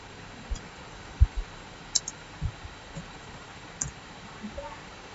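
Sparse, light keystrokes on a computer keyboard as a number is typed, a handful of separate close clicks over a steady background hiss, no talk.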